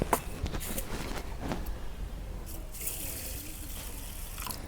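Water runs and splashes into a vessel as rice is put to soak in a village kitchen, a steady close pour with a few sharper splashes and no talk.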